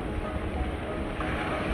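Sea waves break and wash onto a Sicilian beach near Agrigento at Torre Salsa and Bovo Marina, a close, continuous roar of surf mixed with wind buffeting the microphone.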